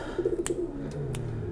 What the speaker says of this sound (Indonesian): Ini bapaknya adiknya burung keramat si Royal Merapi